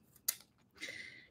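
Boning shears snip through the pointed tips of artichoke leaves in a kitchen: one sharp, crisp cut, then a softer, longer rasp of the blades closing through the leaf.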